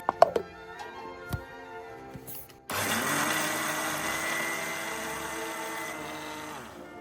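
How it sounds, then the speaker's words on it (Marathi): A few clinks and knocks, then a mixer grinder grinding soaked sorghum whirs up abruptly and runs loudly and steadily to the end. "ज्वारी चांगली भिजलेली आता स्वच्छ धुवून मिक्सरवर वाटून घेते"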